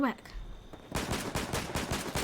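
Rapid bursts of automatic gunfire from the video game Fortnite, season 6, a quick string of sharp shots close and loud, following a few seconds of quieter in-game sounds.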